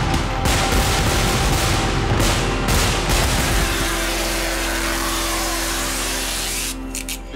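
Loud crackling bursts of fireworks going off in rapid succession, dense at first and then settling into a steady rumbling roar.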